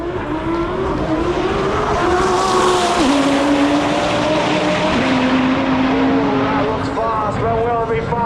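High-revving Audi R8 engine roaring past at speed in a roll race, pitch climbing through gears with brief shift dips, loud and continuous, with excited talk over it.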